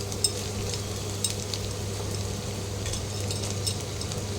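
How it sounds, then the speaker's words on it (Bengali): Two large chopped onions fry in hot oil for chicken, a steady close crackling sizzle with light clinks of a spoon against the pan and a low hum underneath, no voices. "তেলটা গরম হয়ে এসছে, প্রথমে দুটো বড় সাইজের পেঁয়াজ কুচি"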